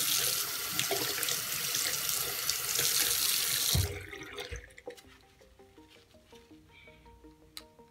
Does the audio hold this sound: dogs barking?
no